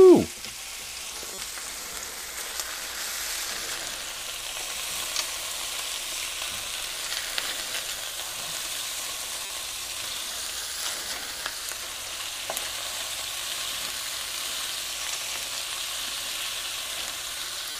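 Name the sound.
meatballs frying and sizzling in a pan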